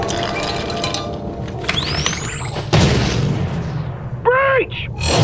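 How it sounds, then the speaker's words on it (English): A flash bomb goes off during a breach, with a sharp rising whistle, then one loud bang and crack followed by a metallic clink and ringing tail. "Deploying flash bomb."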